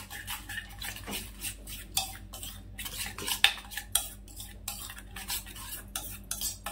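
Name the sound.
mixing tandoori cauliflower with oil in a pan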